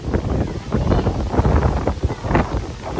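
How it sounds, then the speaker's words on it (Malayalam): Strong coastal wind at Dhanushkodi buffets the microphone in continuous gusty rumbles that rise and fall over a few seconds. No one speaks. "ഇത് കണ്ട ഇവിടെ നല്ല കാറ്റുണ്ട്."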